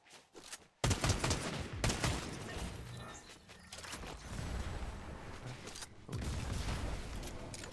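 Gunfire in the video game Fortnite, rapid bursts of shots that crackle in and out over several seconds, with pauses between volleys, fairly quiet overall.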